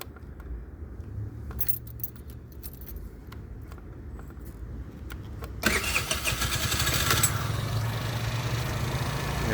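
A used 2019 50cc gas scooter is started after some handling and key jingles, its small engine catching with a sudden burst and settling into a steady close idle.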